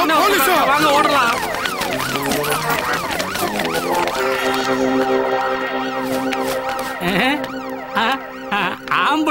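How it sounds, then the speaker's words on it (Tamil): An ambulance siren wails loudly and steadily, its rising and falling tones cycling throughout and mixed with background music in a comedy scene. "அது போலீஸ் இல்ல, ஆம்புலன்ஸ்"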